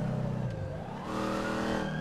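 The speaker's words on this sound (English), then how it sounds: "It's a rental car, right? Toddy drifting." A rental car drifts along a street, its tires squealing in a sustained, wavering screech over the engine's rising rev, close and fairly loud for the full stretch.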